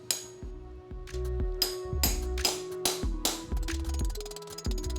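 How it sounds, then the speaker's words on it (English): Sharp metallic hammer strikes drive an anchor bolt into a concrete garage floor one after another at a steady pace, each blow followed by a brief metallic ring, close and fairly loud. "hold it up, and we're gonna bang it in."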